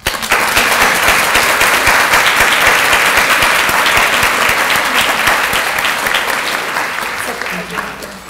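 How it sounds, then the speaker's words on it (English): Loud, dense audience applause greets Riya, a grade 9 student, at a Women in IT Channel Recognition Luncheon. It is sustained and even for several seconds before gradually tapering off. "So please give a warm round of applause for Riya."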